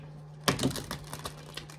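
A deck of tarot cards being shuffled by hand, a sudden riffle of crisp papery flutter that trails off into a few lighter card taps, close and fairly quiet.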